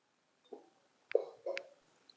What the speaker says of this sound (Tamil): இப்போ நான் வெள்ளம் அதில் போடுறேன்.